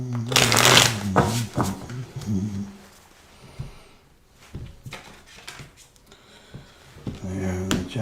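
A deck of cards is riffled and shuffled close up in a loud burst, followed by softer handling and card flicks as two cards are picked, with a voice speaking briefly in between.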